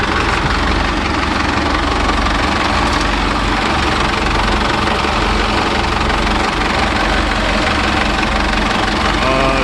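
A loud marine Volvo Penta AD31 diesel engine idles steadily and close by, a dense low rumble with knocking that continues without a break; the engine has low power, smoke and low compression.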